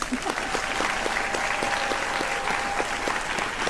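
Loud, sustained applause from an audience at a senior recognition ceremony, a dense even wash of many hands clapping throughout, with a faint steady tone running beneath it.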